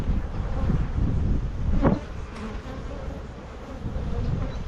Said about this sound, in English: Tons of bees